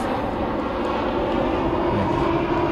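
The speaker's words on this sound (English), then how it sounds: "Got another plane flying overhead" A jet airplane flying overhead on approach to land near a boys' soccer field, a steady, broad engine rumble filling the whole stretch with no talk.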